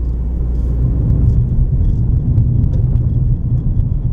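A car drives steadily along an unpaved country road in Oakland County, Michigan, giving a loud, continuous low rumble of tires and engine from inside the cabin, with faint scattered ticks of gravel.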